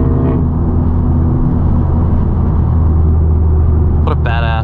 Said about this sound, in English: Marco's 547 horsepower, big turbo Type R just gave that Supra the sauce pretty good